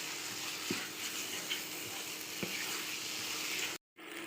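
Cauliflower filling with salt and ginger-garlic paste being stirred and dried in a pan, giving a steady faint sizzle with a few light scrapes and taps before a brief drop to silence.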